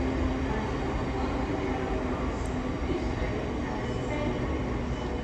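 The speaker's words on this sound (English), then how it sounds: "It's coming now, it's the 1616 South Eastern service to London Charing Cross." An eight-coach Southeastern train bound for London Charing Cross comes into a station with a constant loud roar of wheels and motors, steady from start to finish.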